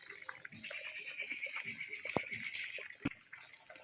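Water pouring from a pipe fed by a small dam beside the Njandirukki waterfall, a continuous splashing gush up close with a few sharp knocks.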